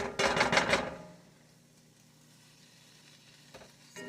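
Onions sautéing in a pan for a Philly cheese steak casserole: a loud burst of sizzling with stirring for about a second, then a quiet low hiss that lingers, with a faint clatter near the end.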